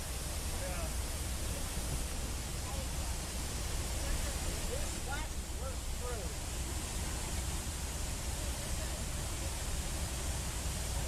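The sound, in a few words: flash flood water pouring like a waterfall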